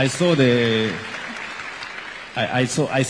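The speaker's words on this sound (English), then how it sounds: "A round of applause for her." Audience applause at a community gathering breaks out briefly between stretches of talk, a moderate, steady patter of clapping before a voice resumes.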